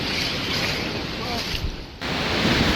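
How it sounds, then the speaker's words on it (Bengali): Ocean waves wash steadily onto the beach at Cox's Bazar, a continuous loud surf roar mixed with gusty wind buffeting the microphone. "দেখুন কি ঢেউ"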